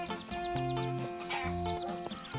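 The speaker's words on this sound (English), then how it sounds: "There are many different breeds of horse, Zeek, and they come in all sizes and lots of different colours" A horse whinnies and neighs in short, fairly close calls over a soft farm background with light music, the bursts repeating a few times across the brief moment.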